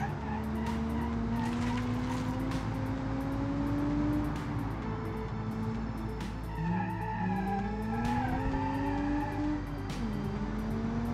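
An all-wheel-drive 300 hp hatchback in the BeamNG driving game, its engine revving hard under full throttle with rising and falling pitch while tires squeal and skid continuously through corners, loud and close throughout.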